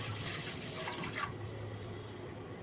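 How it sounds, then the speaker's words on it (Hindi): About two cups of water poured into a kadhai set on a stove, a steady close-up pour running for a couple of seconds with no talking. "अब इसमें हम 2 कप के करीब पानी डाल देते हैं।"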